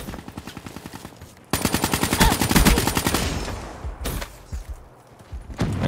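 Rapid automatic gunfire from a machine gun in the online shooter Black Ops 3, a steady burst of close, loud shots that breaks off briefly, then resumes in shorter clusters.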